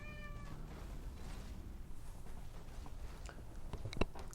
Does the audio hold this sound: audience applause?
no